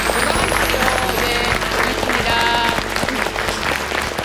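Sustained applause from a Korean TV health variety-show studio audience, dense and steady clapping filling the whole stretch at close range with a faint murmur of voices mixed in.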